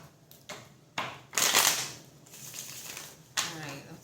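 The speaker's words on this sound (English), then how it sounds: "I already shuffled, but sometimes I feel the need to shuffle again." Several short bursts of tarot cards being shuffled, crisp riffling rustles separated by brief pauses, close up with no one talking.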